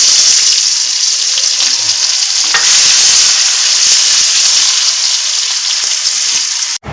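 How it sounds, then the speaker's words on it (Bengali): Chopped onions fry in hot oil with whole cumin, dried chillies and garam masala, giving a loud, steady close-up sizzle with occasional stirring scrapes, no voices, ending abruptly. "এবার আমি দিয়ে দিচ্ছি পেঁয়াজ কুচো।"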